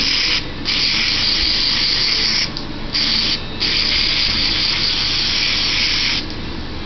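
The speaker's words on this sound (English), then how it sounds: "take your can of spray, blow it out, aim it down." An aerosol spray can blasts into a Honda carburetor in loud, steady hissing bursts with a few brief pauses between them, close and without speech.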